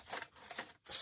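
Scissors trim a piece of material for a canvas craft, a few quick close snips and rustles, faint and brief, with a sharper crisp sound at the end.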